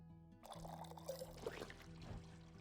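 Liquid pours and trickles as a potion ingredient is tipped out in the video game Tavern Talk, a soft continuous splashing stream over quiet game background music.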